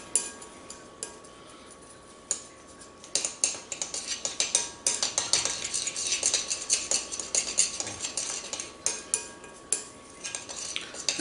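Ciabatta bread starter being stirred in a bowl, heard as close, repeated clinks and scrapes of a utensil against the bowl, irregular and rhythmic, growing busier after a quieter start, with no talk.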